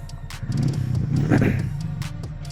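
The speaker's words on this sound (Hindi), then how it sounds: "सो क्रैंक अप कर लेते हैं बाइक." A Harley-Davidson X440 motorcycle with a 440cc engine cranks and fires up close by: a rough, rumbling start swells into a brief rev, then settles into a steady idle.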